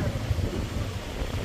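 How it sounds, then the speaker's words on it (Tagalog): Strong outdoor wind buffeting the microphone with a steady low rumble across the whole moment, no voices standing out. "Lakas ang hangin, oh."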